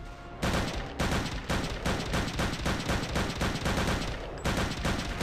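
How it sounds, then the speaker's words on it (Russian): Enemy rifle fire in the VR shooter Return to Castle Wolfenstein, a loud rapid string of sharp gunshot bursts spaced by brief gaps, repeating close and dense across the whole stretch. "Как-то он с винтовки мочит нас."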